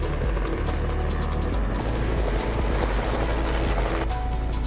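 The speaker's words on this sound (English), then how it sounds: "The most efficient and safest method was to use a helicopter to set these poles." A helicopter sets power poles in rough terrain far from road access, its engine and rotor drone loud and steady throughout with a low rumbling beat and no voices.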